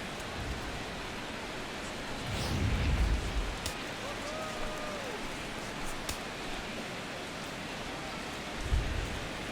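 Steady rain hiss falls over a ballpark in the baseball video game MLB 16: The Show during a Marlins-Nationals game, a broad continuous wash with a couple of low rumbling swells.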